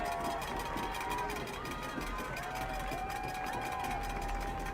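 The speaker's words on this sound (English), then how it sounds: "Crowd trying to make some noise here for the Royals." A high school football crowd at Canton South vs. CVCA makes noise for the Royals, a distant, steady roar from the stands. A commentator talks over it throughout.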